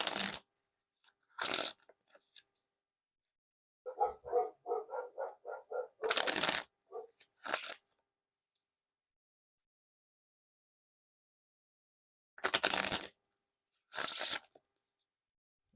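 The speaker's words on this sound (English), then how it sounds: "Now to test the Riffle Shuffle or Bridge Shuffle." Bicycle playing cards are riffled in several short, crisp bursts separated by silence, with a quick patter of fluttering card snaps in the middle.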